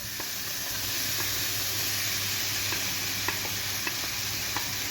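Chopped onions sizzle steadily in a hot pan, a continuous broadband frying hiss with a low hum beneath and a few faint clicks of stirring.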